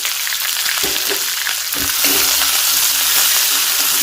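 Onions fry in a pan with dried red chillies for a chutney, a loud continuous close sizzle with a few stirring clacks, growing slightly louder midway.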